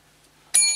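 A bright bell rings once after a short quiet pause, its metallic tone hanging and slowly fading.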